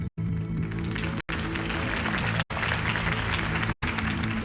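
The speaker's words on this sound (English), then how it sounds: "could have heard that applause" Crowd applause at a campaign speech for Harvey Dent, a dense, steady roar of clapping that fills the clip, broken by three or four brief near-silent dropouts.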